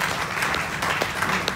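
Audience applauding at a motorsport press conference for the E-Trophée Andros 2020, steady, loud, dense clapping filling the room throughout.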